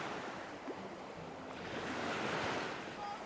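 Waves roll onto Ao Prao Beach on Koh Samet, Thailand, a soft continuous surf wash with some wind noise, faint and steady, swelling slightly toward the end.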